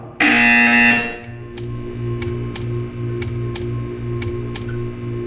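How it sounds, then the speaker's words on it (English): A loud electronic buzzer in the video game Portal 2 blares for about a second, followed by a steady series of sharp ticking clicks over a low mechanical hum. "You will hear a buzzer."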